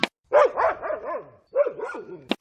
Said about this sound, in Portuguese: Esse é o de ruído de cães no fundo